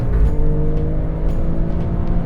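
A loud, steady engine roar with a low rumble and rising whine, close by and continuous, from the 2.9-liter twin-turbocharged V6 of a 2018 Alfa Romeo Stelvio Quadrifoglio revving at the Circuit of The Americas.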